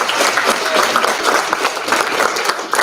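Audience clapping at a middle school National Junior Honor Society induction ceremony, a loud, brisk burst of many hands in a hall, with a faint voice briefly audible over it.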